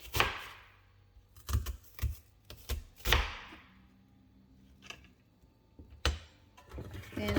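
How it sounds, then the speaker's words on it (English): A knife chops half an onion into smaller pieces on a cutting board, giving a handful of sharp, irregular close taps separated by short pauses, fairly quiet overall. "I'm just gonna cut it into smaller pieces so it can blend"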